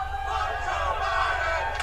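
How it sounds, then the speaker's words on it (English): Stadium crowd at a NASCAR race chanting in unison, a dense roar of many voices blending into a steady, slightly distant wash with no clear individual words. "as you can hear the chants from the crowd"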